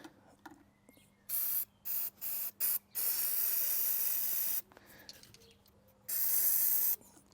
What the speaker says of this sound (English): A little bit of carb spray.